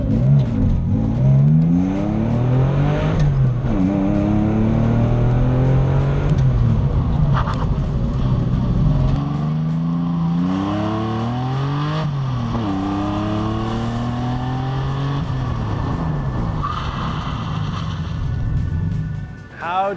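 A Porsche 911 runs an autocross course, its engine loud and close, rising and falling in repeated revving sweeps as it accelerates and shifts, with some talking over it.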